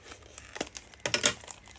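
Plastic packaging of a stamp set crinkles and crackles in short bursts as its top is cut open, close and fairly quiet.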